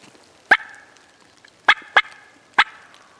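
Wild turkeys gobble four times in sharp, loud bursts, two close together, during a New Hampshire turkey hunt, over a quiet outdoor background with faint birdsong.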